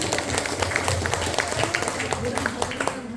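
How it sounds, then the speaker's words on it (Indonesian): Audience members at a village tourism talk show clap for a woman as she comes forward, a lively, moderately loud patter of scattered hands with speech faintly mixed in. "Beri tepuk tangan dong untuk Ibu."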